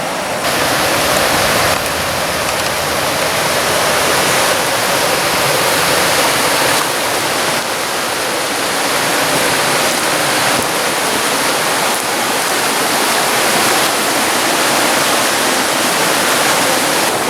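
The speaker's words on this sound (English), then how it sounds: "Okay, here we are right beside the river." Haw River rushing over rocks close by, a loud, steady broadband roar of churning water that runs unbroken and alone throughout.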